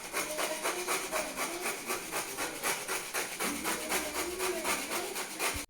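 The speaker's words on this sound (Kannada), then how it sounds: "ನನ್ನ ಹಸ್ಬೆಂಡ್ ಇವಾಗ ಕೊಬ್ಬರಿ ತುರ್ಕೊಡ್ತಾವ್ರೆ." A husband scrapes coconut on a grater at home during festival cooking, steady rhythmic rasping strokes repeating quickly and evenly, close and fairly loud, with no talking.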